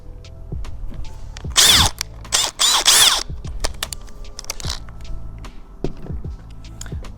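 A power drill whirs in a few short bursts, loud and close, during assembly of a wooden coffee table frame, with clicks and handling knocks between runs and no talking.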